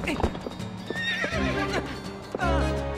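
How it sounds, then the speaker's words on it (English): In Legend of Zelda: Twilight Princess HD, a game horse neighs with a rising whinny over clopping hooves, and a person talks alongside it. "It's Maggie, my horse"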